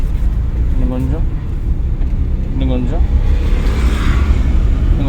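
A car engine drones steadily from inside the cabin during a driving lesson, low and constant, while a voice speaks over it now and then.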